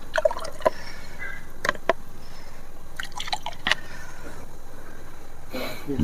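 Liquid poured into a small container during a rasamani (mercury bead) preparation at a mantra training class, heard as a few close, brief drips and splashes scattered through a quiet room.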